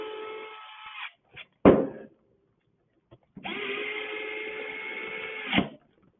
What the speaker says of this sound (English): I'm using the power tool